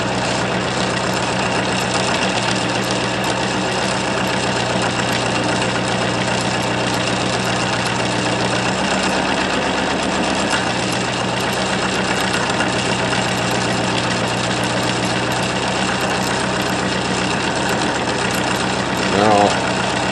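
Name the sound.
homemade pulse motor running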